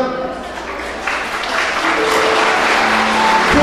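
Wedding guests in a convention hall applaud as the mothers of both families enter, clapping building from moderate to loud and continuing throughout, with faint voices and background music.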